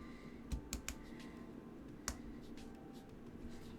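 Wooden UGEARS mechatronic model parts snap together in a few sharp, close clicks, a quick cluster followed by a single louder click against a faint, quiet background.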